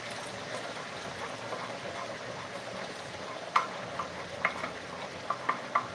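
Homemade tomato paste made with blended onions sizzles gently in a pot while a spoon stirs it, with soft scraping and a few sharp taps against the pot near the end.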